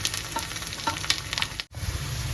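Coconut fries in a pan with a steady close sizzle, broken by soft scraping strokes as it is stirred and a brief dropout near the end.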